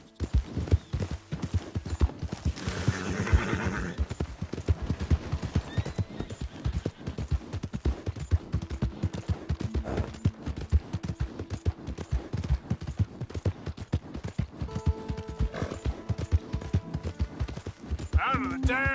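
Horse hooves clip-clop in a fast, steady gallop throughout, with a neigh near the start and a shouting voice later, in the video game Red Dead Redemption 2.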